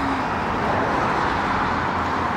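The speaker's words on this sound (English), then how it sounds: "There's a truck and there's another truck." MAN trucks pass along a road, a steady broadband roar of engine and tyre noise that stays loud and even throughout, with no voices.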